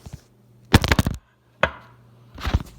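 A tablespoon of biscuit dough dropped into a skillet, heard as a few close, sharp knocks and thuds of spoon and dough against the pan, separated by brief quiet gaps.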